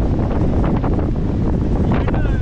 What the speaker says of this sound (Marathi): एवढी हवा चालली आहे की एक माणूस सुद्धा असं एकदम हलतोय